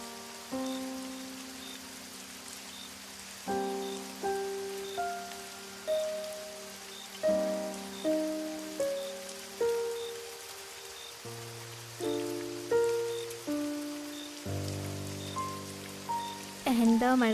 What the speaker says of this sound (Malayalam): എന്താ മഴ അല്ലേ?